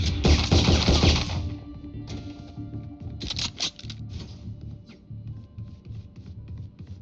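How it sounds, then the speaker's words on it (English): Gunfire in Valorant: a loud burst of rapid shots up front, then scattered sharper single cracks and short clicks over a low game hum, thinning out toward the end. "Let me hear the gunfire"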